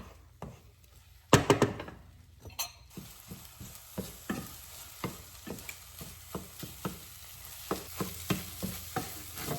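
Eggs cook in a pan with a faint frying hiss under a steady rhythm of spatula scrapes and taps, fairly close and with no talking.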